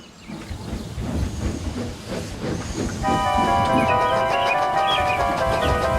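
Steam locomotive Thomas puffing hard up a steep hill with a heavy coach in tow, a rhythmic chuffing hiss and clatter that builds steadily, joined halfway by sustained whistle-like tones over the continuing puffing.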